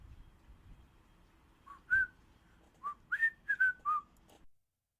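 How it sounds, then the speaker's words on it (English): A man whistles a short, bright, tuneful phrase of several sliding notes, clear and isolated against near silence before it cuts off abruptly. "I don't want to hear this dude whistle."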